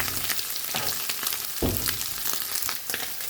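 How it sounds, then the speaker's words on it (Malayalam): Prawns for pickle fry in hot oil with a dense, constant sizzle, punctuated by a few soft stirring knocks, heard up close with no talk. "പ്രോൺസ് ഇവിടെ നല്ലപോലെ ഫ്രൈ ആയി വന്നിട്ടുണ്ട്."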